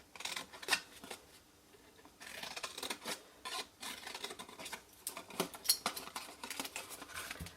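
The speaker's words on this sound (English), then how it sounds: "So hold it this way round and cut into the square" Scissors snipping into a paper or card square while making a multi-way holder pot: a run of close, crisp cuts and rasping rubs in irregular bursts, fairly quiet with no talk.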